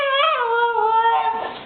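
A husky puppy lets out a drawn-out, close, high whimpering cry that wavers and bends in pitch, heard alone and clearly.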